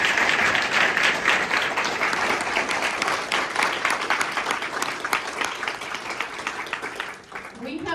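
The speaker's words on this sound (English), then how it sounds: "Let's just give them all a round of applause." An International Women's Day celebration audience applauds steadily and fairly loudly for several seconds, a dense wash of clapping from a full room that thins out just before the end.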